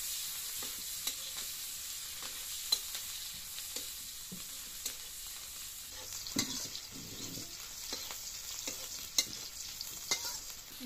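Chopped onions and chilies sizzle in hot oil in a wok, with a steady quiet hiss broken by repeated scraping stirs.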